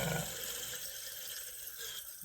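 Water rushes steadily through an old toilet fill valve, a constant hissing spray that stays loud and unbroken from start to finish, with nothing else heard over it.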